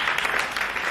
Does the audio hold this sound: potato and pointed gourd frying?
no